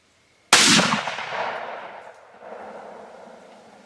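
A single loud gunshot cracks out while deer hunting, followed by a long echoing decay across open country.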